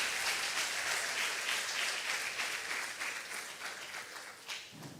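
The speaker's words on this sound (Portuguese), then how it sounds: "Você pode aplaudir o Senhor?" A church congregation applauds together, and the clapping holds as a dense, steady wash that fades slightly toward the end. No one speaks over it.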